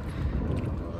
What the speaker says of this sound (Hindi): बहुत ही ज़्यादा हवा चल रही है